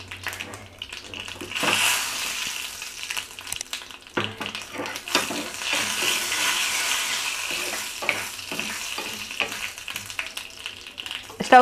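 Half a spoon each of mustard seeds and cumin crackle and sizzle in hot ghee for a coconut rasam tempering, a busy close spitting hiss with scattered pops and stirring scrapes.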